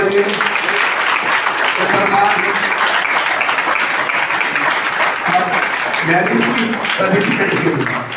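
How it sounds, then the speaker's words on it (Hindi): Wedding guests at a Christian ceremony burst into loud, sustained applause for about eight seconds, with voices chattering and calling out underneath the clapping. "एक बार फिर जोरदार ताली बजाइए।"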